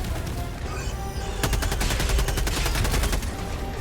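Rapid automatic gunfire from the Helldivers video game, a dense, loud rattle of repeated shots that starts abruptly partway in and continues steadily over a low battle rumble.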